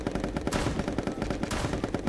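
Rapid gunfire from the party video game Pummel Party, a dense string of shots in quick succession with a couple of louder bursts, steady and close throughout with no talk over it.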